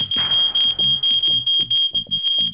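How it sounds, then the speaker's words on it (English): A smoke alarm shrieks with a steady high-pitched tone while a low voice talks underneath in short bursts. "if your smoke alarm sounds in your house, stay low and crawl"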